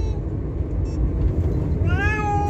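A cat meows near the end with a rising, drawn-out call over steady low rumbling background noise, likely a moving vehicle, with some voices faintly present.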